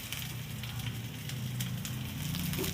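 Oil heating in a kadai wok for a simple Bengali egg curry, giving a continuous soft sizzle and crackle close by, with a low steady hum underneath and no talking.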